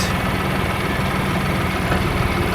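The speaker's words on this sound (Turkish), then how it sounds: "kuyruk milini çalıştıracağız" A New Holland T4.80 tractor runs its diesel engine steadily while driving the PTO shaft for a rotavator, a loud, close, even rumble with no talk.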